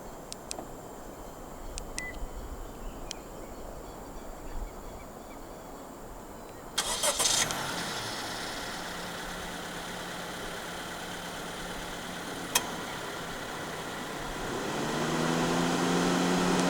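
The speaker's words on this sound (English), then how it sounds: "The E-Trim and above City Hatchback in Malaysia does come standard with a remote engine start system." A 2022 Honda City Hatchback 1.5 V is started by remote: faint key-fob beeps and clicks, then a sudden engine catch with a brief rev flare settling into a quiet, steady idle that swells a little toward the end.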